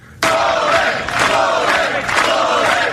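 A large crowd of supporters in Serbia roaring and chanting in rising waves, loud and close, breaking in suddenly after a brief quieter start and surging again in rhythmic swells.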